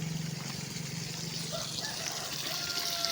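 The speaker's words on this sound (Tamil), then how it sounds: "இங்கே ஒரு பைப்பில் தண்ணி போயிட்டுருக்கு" Water runs steadily through a pipe in a garden beside jasmine plants, a continuous close gushing trickle with a broad hiss that holds at an even level throughout.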